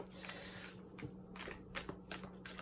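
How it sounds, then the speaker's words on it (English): A deck of tarot cards is shuffled by hand in a quiet room, with a steady series of soft riffling bursts and taps repeating close up, faint and heard alone. "because I'm shuffling live for you guys"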